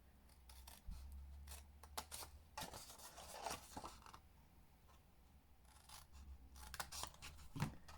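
Scissors snip through 6-inch designer series paper up to a score line, a run of close, crisp cuts and rasps in uneven bursts with small pauses between strokes.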